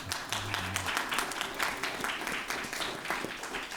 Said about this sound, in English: You can applaud, folks.